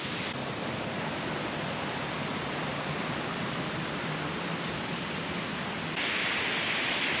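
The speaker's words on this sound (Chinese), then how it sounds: "太興瀑布就在下方那裡。" Taixing Waterfall in Meishan, Chiayi, runs over a rock face at low flow, a steady hiss and rush of falling water heard from a distance that rises slightly louder near the end.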